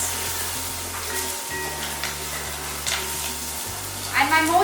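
Ginger-chilli paste and curry leaves sauté in ghee over spluttered mustard seeds and cumin for Gujarati kadhi. A close, dense sizzling hiss runs throughout alongside a low steady hum, with no voices.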